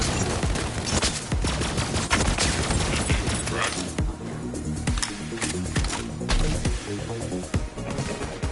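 Dense gunfire in a looter-shooter video game, loud rapid bursts of automatic fire and repeated sharp shots crowding together continuously, with sharp impacts and explosions mixed in.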